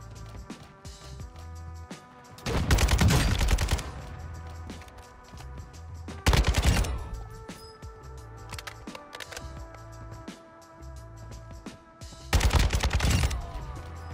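Kastov 762 AK fired in Call of Duty, heard as three loud bursts of automatic fire separated by quieter stretches of game ambience, with no talking.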